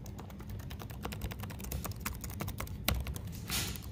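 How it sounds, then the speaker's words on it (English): Rapid, crisp key presses on a Lenovo ThinkPad X1 Extreme Gen 2 laptop keyboard clatter at close range in an uneven rhythm, with a few louder thunks standing out. "They love this keyboard. They love how it presses. That's how it sounds."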